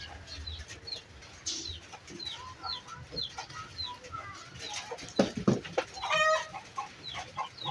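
Hen and chicks clucking close by, with chick peeps and a hen's clucks coming and going in short bursts over quiet outdoor background.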